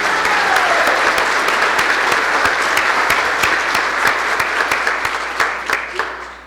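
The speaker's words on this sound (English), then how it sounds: "Let's give another round of applause for our amazing performers." Audience applause for student performers at a school district foundation community breakfast, steady rhythmic clapping from a sizable room that thins and fades toward the end.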